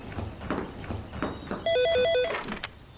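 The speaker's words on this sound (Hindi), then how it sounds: "खुदा करे ताहिर का फोन हो" A telephone rings with a short trilling burst, warbling between two tones, after soft background noise.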